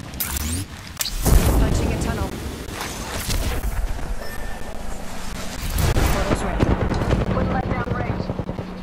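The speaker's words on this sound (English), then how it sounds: "Grenades hit him." Frag and thermite grenade blasts in Apex Legends, a chaotic stretch of heavy booming bursts and crashing impacts amid rattling gunfire, loud and dense, with a few sharp peaks standing out.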